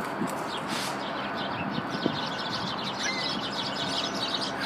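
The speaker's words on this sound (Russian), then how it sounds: "Но воробьи налетели." Sparrows chirp in a steady, busy chatter of short tweets over a broad hiss of outdoor background noise, moderately near and continuous throughout.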